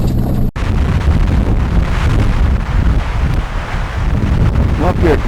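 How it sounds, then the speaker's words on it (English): Strong wind buffets the microphone at Cathedral Valley Overlook, a loud, continuous roaring rumble after a brief cut, with faint rustling over it. "a lot of wind blowing me around"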